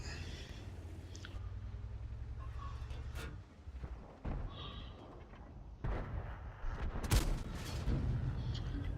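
An M46 tank's main gun fires in a video game, a single heavy boom with a rumbling tail set against continuous engine and battle noise.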